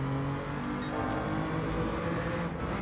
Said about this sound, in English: Just using a bit of engine braking in second there.